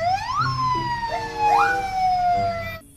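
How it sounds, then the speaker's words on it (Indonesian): A police car siren on a toy or animated emergency vehicle: a loud, near electronic wail that sweeps up and down in pitch for about three seconds before cutting off. "Di sini ada mobil polisi."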